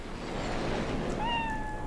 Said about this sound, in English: Oh, I can pet the cat.